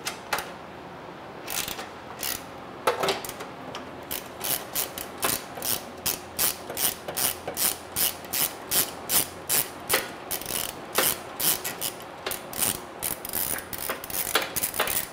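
A hand ratchet works on exhaust bolts during a Porsche 991 GT3 exhaust install, giving a long series of sharp, quick clicking bursts in uneven rhythm, close and clear in a quiet garage.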